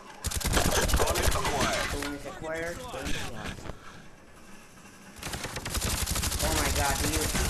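Rapid automatic weapon fire rattles in bursts from a Call of Duty Black Ops gun game match, dense and loud, easing off briefly mid-clip before resuming at full intensity.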